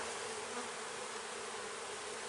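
Honey bees buzz in a thick, constant drone during a hive inspection as honey frames are moved around, close and loud with no talking.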